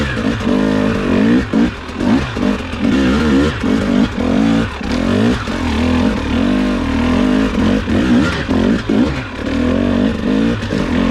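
A 2021 Husqvarna TX300i two-stroke dirt bike runs loud and close throughout, its engine note rising and falling steadily as the throttle opens and closes on a trail ride.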